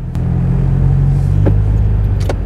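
A car engine runs steadily with a low, even rumble and hum, heard close from inside the vehicle, with a couple of faint clicks and no talking.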